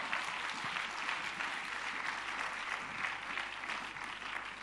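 A church congregation applauds in a dense, steady wash of clapping that stays loud and continuous throughout, with no pause or talking over it.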